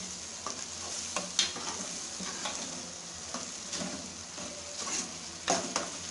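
Mashed brinjal for baingan bharta fries in a pan with steady soft sizzling, while a spoon scrapes and stirs in irregular clicks and knocks throughout, fairly close and alone with no talking.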